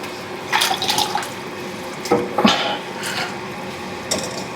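Chicken soup is poured out of a pot, heard as intermittent splashing bursts of liquid with clinks and handling noises between them, close and fairly loud.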